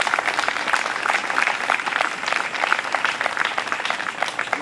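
Students at a freshman convocation applaud their faculty, a dense, steady clapping of a large crowd that fills the hall without a break.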